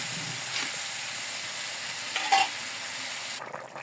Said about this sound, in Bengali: আমি ওই কড়াইতে মশলাটা ঢেলে কলা দিয়ে দিব।